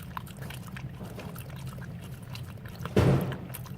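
Water is poured for a Boston Terrier as a short, close splash about three seconds in, rising out of quiet room noise.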